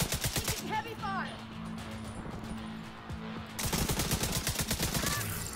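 Heavy automatic gunfire in The Division 2 during a Black Tusk stronghold fight at Tidal Basin, rapid sustained bursts of shots rattling close and loud, broken by a short lull before another long volley, with voices under the shooting.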